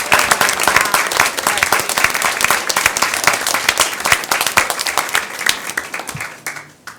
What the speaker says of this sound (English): if you'll please stand so we can give you a round of applause.